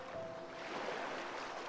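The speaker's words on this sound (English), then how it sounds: "Gentle waves gradually lull the little mermaid to sleep." Gentle ocean waves make a soft, steady wash of surf with no breaks and no voices.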